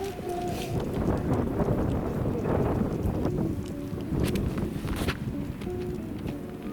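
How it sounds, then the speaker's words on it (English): A north wind blows across a disc golf course at Jones Park in Decatur, Texas, producing a steady low rumble of gusts against the microphone with a few faint clicks and no talk. "We've got a north wind today"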